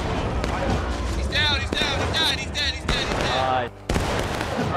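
Musket volley fire in the American Civil War game War of Rights, a rapid crackle of many overlapping shots and sharp reports, loud and near, with voices shouting over the gunfire.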